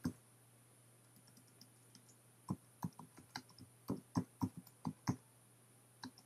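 Quiet clicks from a computer keyboard as a folder name is typed, sparse at first and then a quick cluster of keystrokes, each one crisp and close over a low steady hum.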